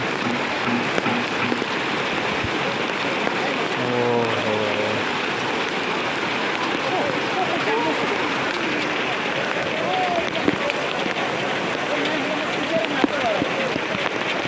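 The flooded Khahare stream in Boudha rushes loudly and continuously, a dense roaring wash of floodwater while people talk and exclaim over it.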